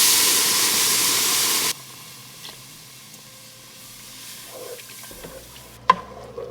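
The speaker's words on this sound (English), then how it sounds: "Pour the half gallon of milk in." Half a gallon of milk poured into a pan of sausage gravy, a loud, steady splashing rush lasting under two seconds before dropping to a faint, quiet background.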